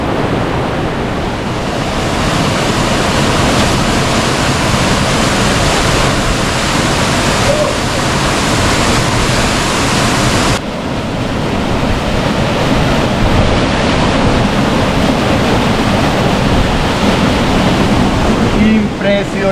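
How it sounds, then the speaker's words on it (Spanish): A waterfall cascades on a mountain hiking route, a steady, loud roar of falling water that holds for about twenty seconds with only a brief dip midway. "Vamos a ver la última de las cascadas de la cima del Diablo."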